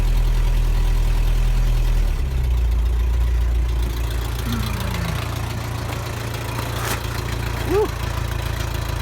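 A Toyota engine idles steadily after a cold start on a freezing morning in the 20s °F, giving a continuous low, even hum with a few faint mechanical sounds over it.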